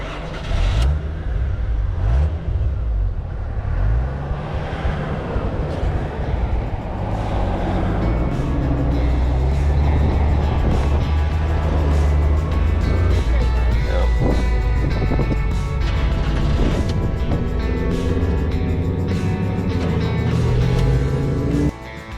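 A Jeep CJ7 driving with its top off: a steady engine drone and road noise over heavy wind buffeting the microphone, loud and continuous, with voices talking over it at times.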